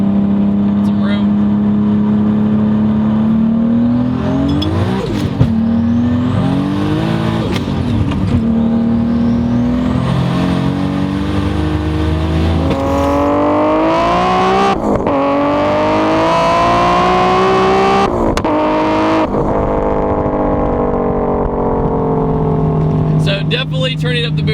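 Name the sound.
1000HP Toyota Supra accelerating at 28 psi boost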